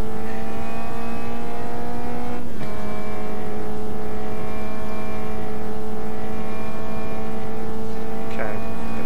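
Caterham Superlight engine held at full throttle in Automobilista 2 at Cadwell Park, a loud steady harmonic drone with a brief gear-change dip near the start and another near the end.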